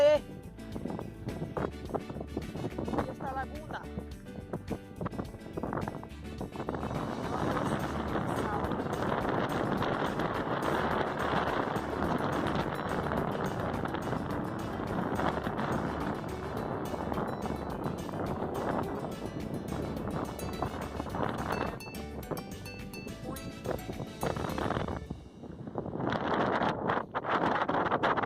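Strong wind roars and buffets the microphone across the Gran Salinas salt flats in Argentina, loud and continuous throughout, dropping away briefly near the end, with a voice speaking over it.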